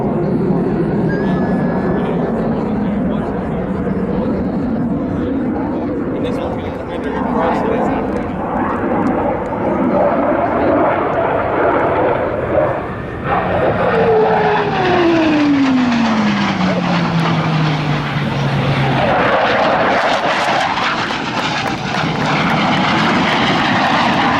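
Blue Angels jets roar past overhead at the Pensacola NAS air show, a loud engine rumble that swells and sweeps downward in pitch as the aircraft cross the field, with an announcer's voice over the noise.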